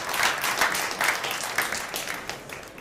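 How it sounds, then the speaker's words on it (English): Crowd applause at a pool match between Shane Van Boening and Martin Daigle, a dense wash of clapping with a few sharper bursts that slowly thins out toward the end. "And the crowd goes wild."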